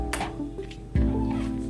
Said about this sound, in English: Say hi to my cat, Ruth Ann.